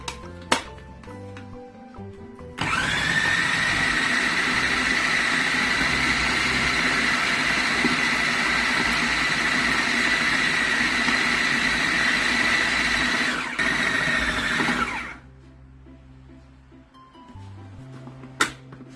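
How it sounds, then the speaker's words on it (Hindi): An electric food chopper whirs steadily for about twelve seconds as it minces kofta mixture, loud and close, then cuts off, leaving quiet kitchen handling before and after. "ये देखिए इस तरीके से मैंने चॉपर में कर दिया।"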